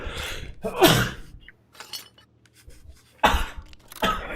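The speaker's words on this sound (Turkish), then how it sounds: "Hapşırdı." A person sneezes during a session of the survival game Rust: short, sharp nasal bursts with quiet pauses between them, close to the microphone.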